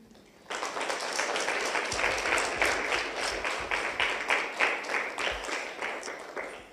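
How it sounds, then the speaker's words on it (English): An audience at a community talk breaks into steady applause, many hands clapping together close by and fairly loud, rising suddenly and holding for several seconds. "You should just do a round of applause for everything you've done in the last 15 years"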